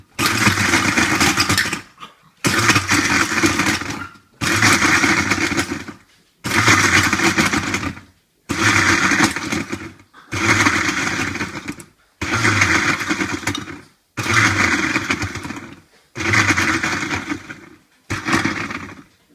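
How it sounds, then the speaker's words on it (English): A Breville blender on its ice setting crushes ice cubes in about nine loud, close pulses, each burst of grinding roughly 1.5 seconds long and split by short silent gaps. "set the Breville blender to ice, which is going to grind it"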